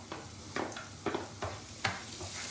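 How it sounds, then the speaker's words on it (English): White onions fry in oil in a pan with a steady, quiet sizzle. Scraping stirs break through the sizzle at irregular intervals. "Now we put the onions, white onions"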